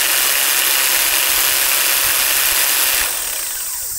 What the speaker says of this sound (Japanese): 先ほどのスプリットモーターにこのグラウンドトリマーアタッチメントを取り付けております